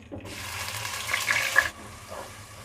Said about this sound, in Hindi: अब प्याज को उस वक्त तक फ्राई करेंगे जब ये गोल्डन की तरफ जाना शुरू हो जाए